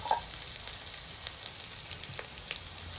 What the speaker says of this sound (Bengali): আদা আর নারকেলটা আগে আমি ভালো করে ভেজে নেব।